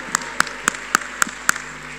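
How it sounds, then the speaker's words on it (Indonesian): Clapping at a church service, six sharp, evenly spaced claps in a quick steady rhythm over a faint background hum. "Boleh kita berikan tepuk tangan yang paling meriah untuk Tuhan Yesus?"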